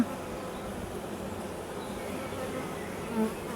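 Honeybees buzzing around opened hives during a post-winter inspection, a soft continuous hum of many insects at moderate distance, faint and even throughout.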